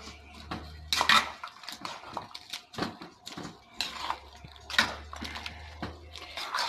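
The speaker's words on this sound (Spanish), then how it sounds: "Vamos a guisar junto con el pollo." Chicken is stir-cooked in a pan with green and red peppers, sliced green onion and ginger. A utensil scrapes and clinks against the pan in irregular, close bursts, with quieter pauses between.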